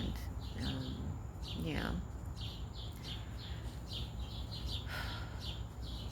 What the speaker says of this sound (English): It's so relaxing, hearing all the birds and just beautiful trees we have out there